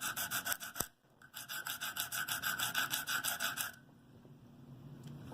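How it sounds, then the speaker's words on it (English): Steady back-and-forth rasping of a Buck 110 folding knife blade drawn across a stone on a KME sharpener, close and rhythmic strokes that stop partway, leaving quiet room noise. "that I'm sharpening on the KME."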